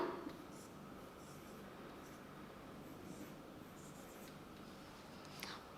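Letters are written on a board in a basic Tamil lesson: quiet, continuous scratchy strokes with slight shifts in texture and a brief louder tap near the end, over faint room hum.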